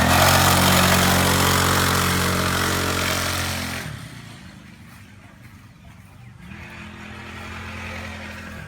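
A 40cc pit bike engine runs with a buzzing, raspy drone. It is loud and steady at first, then eases to a lower idle before rising again, heard close with no talking.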